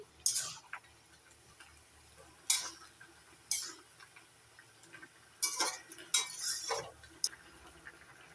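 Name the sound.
lifting lid and stirring gourd greens in a pan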